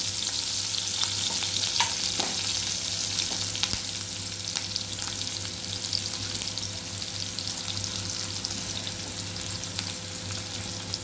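Mustard seeds, urad dal, onion, ginger and curry leaves fry in sesame oil and ghee for carrot rava upma, giving a steady close sizzle with scattered crackles and pops throughout, and no voices.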